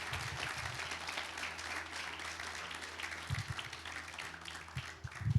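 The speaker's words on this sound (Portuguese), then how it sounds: "Vamos aplaudir ao Senhor." An Easter service congregation applauds in church, a steady wash of many hands clapping at moderate distance, with a few sharper claps and faint voices near the end.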